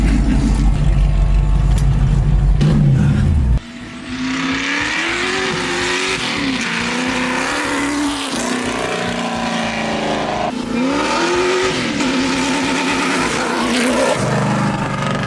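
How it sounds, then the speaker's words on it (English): A supercharged 1965 Ford Mustang accelerates hard with wheel hop, its loud, close engine wailing upward through several gear shifts, with a brief drop in roar at each change and a rough, stuttering edge beneath the revs. "Every time I shifted, it was like, that was all wheel hop"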